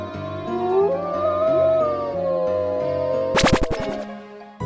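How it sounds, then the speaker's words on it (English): Wolf howl, a long rising and falling wail at moderate loudness over a layered musical backing, followed by a short plucked flourish near the end. "wolf,"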